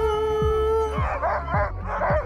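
Sled dogs howl and yip in a loud, close chorus while being harnessed, with sustained wavering howls overlapping and punctuated by sharp barks.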